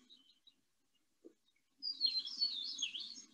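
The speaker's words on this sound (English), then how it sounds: "Very grating sound the red-winged blackbird makes." A red-winged blackbird gives a harsh, grating trill that lasts about a second and a half. It comes after a few faint chips and is heard alone in a quiet recording.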